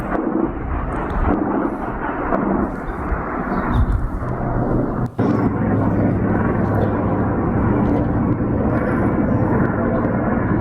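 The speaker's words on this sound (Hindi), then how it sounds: "ये हेलीकॉप्टर से पेट्रोलिंग कर रहे हैं और ये सिर्फ हवा में घूम रहे हैं" Loud, steady rotor and engine roar of a patrol helicopter overhead, broad rumbling noise filling the whole stretch with one brief dip midway.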